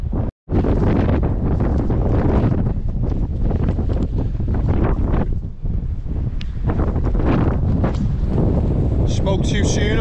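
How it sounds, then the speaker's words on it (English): Strong wind roars across a Lake District fell summit in the Loweswater Fells, a loud, continuous buffeting rush that batters the microphone with gusty surges and brief lulls. "Spoke too soon about the wind there. It's picked up big time and it's freezing now."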